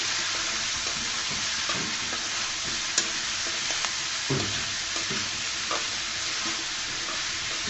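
Spring onion and egg frying in a pan, stirred with a spatula: a steady, loud sizzle and crackle runs throughout, broken by occasional scrapes and light knocks of the utensil.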